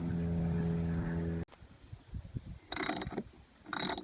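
Lag bolts with 1/2-inch heads are driven into a solar panel roof mount, a steady mechanical whir that stops abruptly, followed by quiet clicks and two short, loud bursts of driving, close and alone.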